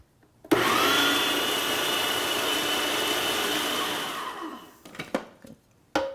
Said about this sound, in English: So let's get the food processor go.